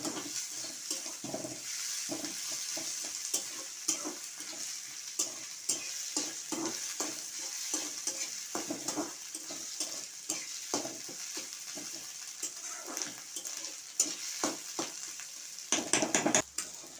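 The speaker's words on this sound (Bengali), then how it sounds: "এই যে একটু আদা এইগুলো আমি একটু লাল লাল করে ভেজে নেব" Garlic and ginger fry in a pan, cooking down to a reddish brown, in a continuous soft sizzle broken by frequent scraping stirs. It is fairly quiet and close by, with no one talking.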